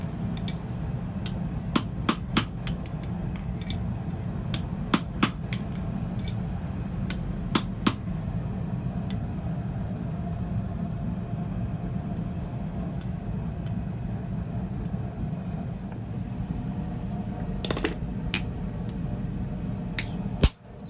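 A set hammer struck on an anvil works a hand-forged flange end, giving sharp ringing metallic blows in small pairs and triplets, spaced a few seconds apart, over a low steady background hum.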